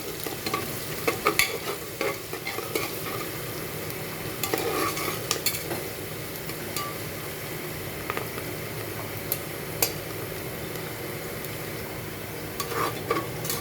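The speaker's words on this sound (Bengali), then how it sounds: "পেঁয়াজটা ভাজা হয়ে গেছে," Sliced onions fry with a little sugar in a pan for chicken curry, a quiet, even sizzle carried along by frequent clicking and scraping strokes of a stirring spoon over roughly fourteen seconds.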